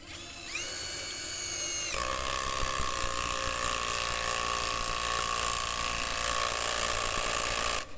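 Dagmara TD172 impact driver at top speed drives a 15 cm deck screw, starting with a brief whine that steps up into a loud, steady rattling hammer lasting about six seconds before stopping abruptly.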